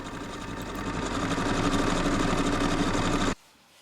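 A sewing machine stitches the shoulder seams of matching family cruise outfits, running as a steady, close mechanical whirr for about three seconds before stopping abruptly.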